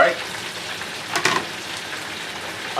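Fish dropped into a pot of hot frying oil gives a steady, bright sizzle throughout, with a louder crackling burst midway and no speech over it.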